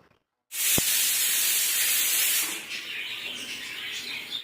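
Strong, steady hiss of steam bursting from a pressure cooker as mutton curry cooks, starting abruptly and holding loud for about two seconds before easing into a softer, continuing hiss.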